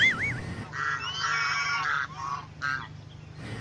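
A goose honks in a few loud, nasal bursts, close and clear, with short gaps between calls and no talking.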